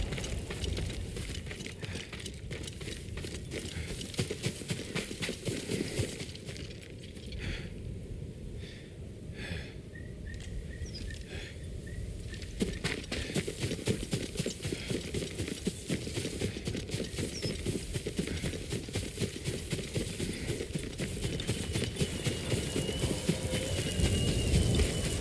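Horse hooves in Ghost of Tsushima, clopping in a steady rhythm under a dense game ambience, with a brief lull partway before the hoofbeats continue loud and close to the end.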